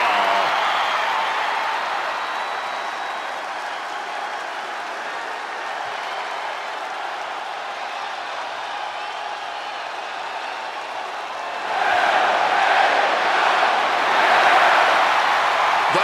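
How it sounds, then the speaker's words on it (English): In the WWE 2K26 video game, an arena crowd sends up a steady roar of cheering and applause that rises louder near the end, with no talking over it. "Oh yeah, this crowd, they just love them some LA Knight."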